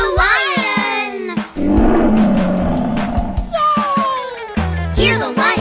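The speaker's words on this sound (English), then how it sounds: "Hear the lion roar. Roar, roar, roar." A cartoon lion roars in a children's animal song, a rough, noisy roar swelling for a couple of seconds between bright sung and voiced phrases, loud and up front in the mix.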